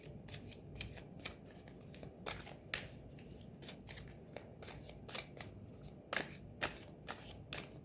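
Tarot cards are shuffled in quick riffling bursts, crisp and close but soft, with short flicks and snaps repeating at an uneven pace and no talking.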